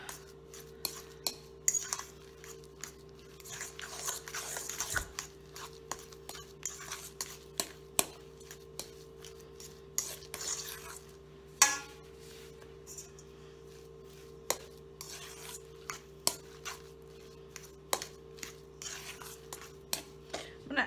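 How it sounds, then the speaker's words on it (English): A spoon scrapes and taps repeatedly through twice-baked potato filling mixed with sour cream in a bowl, with soft irregular clinks over a steady background hum. "Alright, we're going to mix this up really well."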